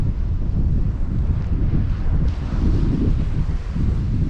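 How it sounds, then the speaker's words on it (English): Strong wind buffets the microphone at the mouth of the River Usk during a sea fishing session, a steady low roar with gusty swells throughout and no speech. "The wind is coming from behind me, so it's quite good for casting actually. No good for filming"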